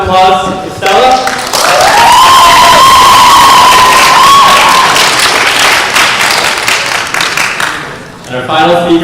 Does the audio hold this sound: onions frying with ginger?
no